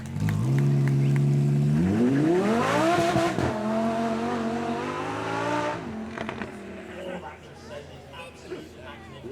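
A Lamborghini supercar at the Beaulieu Supercar Weekend revs hard and close: one loud engine note climbs steadily in pitch for several seconds, holds, then drops away and settles into a quieter, rougher idle.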